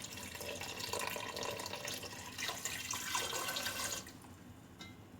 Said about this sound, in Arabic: طبعا هملى الحله دي كلها ميه